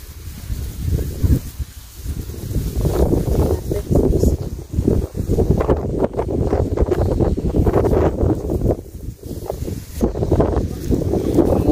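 Wind gusting across a vegetable garden, a steady rough rush with fluttering buffets that rise and fall, loud and close against the microphone.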